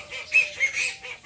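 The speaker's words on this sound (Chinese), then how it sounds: "前面是鸡哥的叫声，后面是鸭子，这又来了一个大公鸡" Farmyard fowl calling near an oilseed rape field: a few loud, nasal honking squawks come in quick bursts, close by, with no talk.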